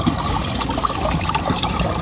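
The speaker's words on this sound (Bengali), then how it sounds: "আস্তে আস্তে আমরা পানি ঢেলবো" Water is poured slowly into a lovebird feeder, giving a soft, steady close trickle and splash with no pauses.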